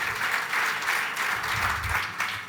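An audience at a panel on crises and European construction breaks into applause, a continuous, fairly loud wash of clapping that swells and eases in gentle waves, with a low rumble of murmuring underneath.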